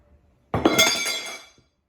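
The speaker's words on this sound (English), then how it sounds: "knocked over the incense urn" A cat knocks over an incense urn on a table, giving one sudden crash followed by about a second of rattling, clinking scatter that quickly stops, close and alone.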